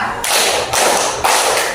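Schoolchildren in an Indonesian primary class clap in unison during a counted concentration exercise, three loud, broad bursts of group clapping in steady rhythm with no voices.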